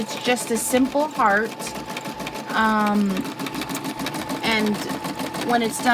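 A Brother SE 400 embroidery machine stitching a satin-stitch heart gives a fast, steady mechanical whirring and ticking that runs throughout, close and clear, while a person talks over it.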